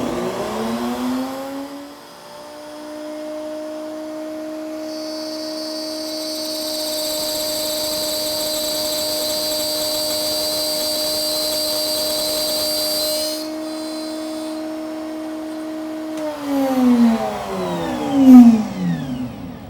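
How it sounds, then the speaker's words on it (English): A router on a router table makes a box joint test cut in wood. The motor spins up to a steady high whine, gets a harsher, louder edge for several seconds as the bit cuts, then winds down as it falls silent. "I'm ready for my first cut."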